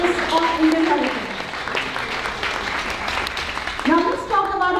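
An audience at a 2013 AAPI women's symposium claps for physicians, a continuous crowd applause running under a speaker's amplified voice.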